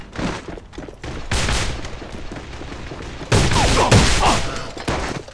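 Pistol shots in the video game AVA, a few sharp bursts amid loud game noise, with a heavier cluster of shots near the end and no talking.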